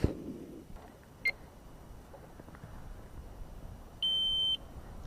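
Kovix disc lock alarm on a motorbike gives a short electronic beep, then about half a second later a longer steady tone, both clear against a quiet background.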